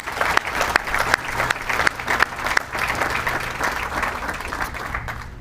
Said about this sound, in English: Please join me in a round of applause for these amazing people.